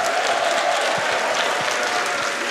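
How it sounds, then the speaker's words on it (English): A live crowd applauds at a Summer Games Done Quick event after a Super Mario Odyssey speedrun, with dense, even clapping that runs loud and unbroken throughout. "Can we get one more round of applause for Chef Dangers and the couch?"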